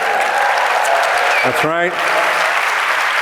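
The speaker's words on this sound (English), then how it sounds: "wonderful way to get cheap applause is to just pan immediately to the audience" Audience applause fills a conference hall at a corporate talent event, loud and steady throughout, with someone speaking briefly over it.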